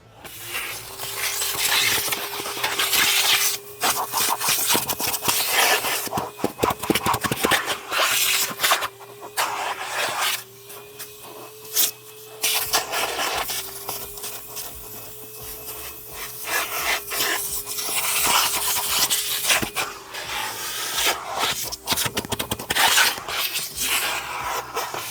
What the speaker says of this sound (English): Starting off first, just with a quick vacuum,